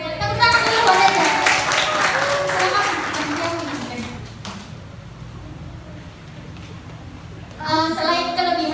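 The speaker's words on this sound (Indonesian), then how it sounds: "Tepuk tangan dulu buat Ega." Brief applause for Ega in a classroom presentation on eco-print: a speaker's voice leads into light scattered clapping that fades, with quiet room noise after and speech resuming near the end.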